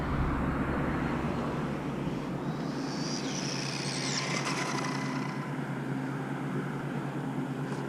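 A Losi Mini B speed-run RC car at full throttle, its electric whine rising and sweeping as it makes a fast pass, heard from some distance over steady broadband outdoor noise with no talk.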